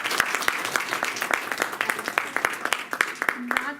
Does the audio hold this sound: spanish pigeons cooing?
no